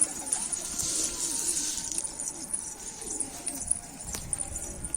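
Pigeons coo softly in low repeated murmurs amid faint chirps and outdoor hiss, with an occasional sharp click; no one speaks.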